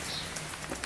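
Rain falling outdoors at a grill hut building site: a dense, steady hiss of drops on surfaces, close and even throughout.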